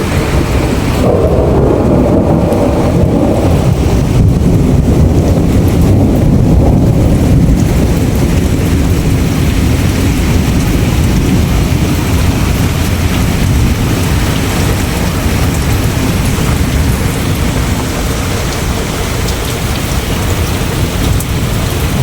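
Torrential rain lashes down without pause in a village in Sindh, a loud, dense roar with gusting wind buffeting the microphone and a low rumble underneath, no voices.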